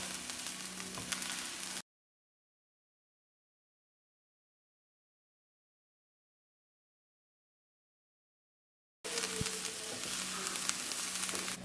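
Leafy vegetables sizzle in a hot frying pan as they are stirred and mixed, with a soft, continuous crackle and scraping up close that cuts out to silence for several seconds midway before resuming.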